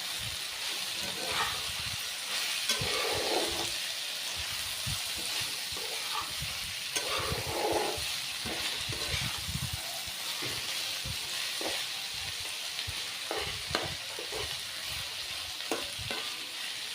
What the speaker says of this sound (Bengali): ফুলকপি ভাজিটা হয়ে গেল